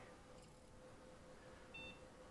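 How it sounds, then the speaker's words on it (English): A single short electronic beep from a PC motherboard at startup after a CMOS clear, brief and moderately clear over steady low fan hum. "Got a beep."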